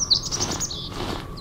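Bird chirps from the video game Gravity Bone, a series of short, high, bright tweets repeating through the moment, fairly close and clear over a soft ambient hum.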